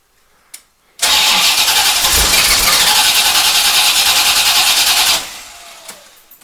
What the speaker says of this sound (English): and then start the car